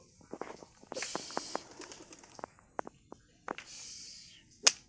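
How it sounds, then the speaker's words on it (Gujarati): A pigeon near a well gives soft cooing calls, then takes off with sharp, irregular wing claps and a rushing flutter, ending in one loud clap, all fairly close and quiet. "આ કબૂતર ઉડાડું"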